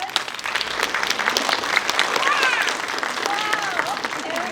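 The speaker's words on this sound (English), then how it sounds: "we give Andrew and Donutolgy a big round of applause" An audience applauds at an inspirational talk, with a thick, steady wash of clapping and a few voices and cheers rising through it.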